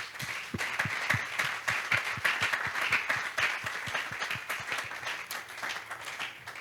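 Church congregation applauding, a dense sustained round of many hands clapping in a rhythmic pattern, fairly close, fading slightly toward the end.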